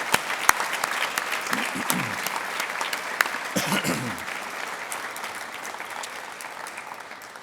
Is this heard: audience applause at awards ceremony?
yes